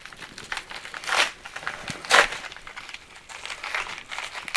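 Envelope paper being torn open in short crinkly bursts, close by and fairly quiet, with crumpling rustles between the tears and no talking.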